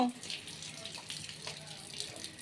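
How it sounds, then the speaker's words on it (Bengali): Tap water runs and splashes close by while henna is washed off a bald head, a continuous gush with a voice speaking briefly over it. "হেনা করে মাথা ধুচ্ছে"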